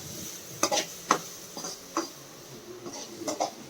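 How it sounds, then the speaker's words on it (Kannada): Onions for a chicken curry frying in a pan, with a quiet sizzle under scattered sharp clicks and taps of a spoon against the pan. "ಇವಾಗ ಅದು ಫ್ರೈ ಮಾಡಿ ಗ್ಲಾಸಿ ಬರ್ಬೇಕಂತ ಆನಿಯನ್ನು"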